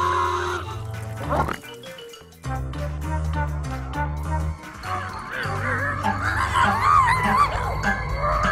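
Cartoon pigs in the Angry Birds video game oink and squeal in short bursts over busy game music, with a few sharp cries and whoops mixed in at moderate loudness.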